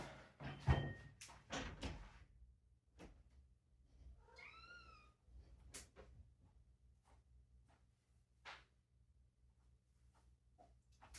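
A cat meows once with a rising, tonal call midway, set among scattered door and cupboard knocks and clatter in a quiet indoor room.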